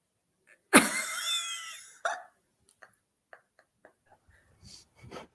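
A loud, raspy burp erupts near the mic and rolls on for over a second, followed by a shorter second belch and then scattered soft clicks and breaths in a quiet room.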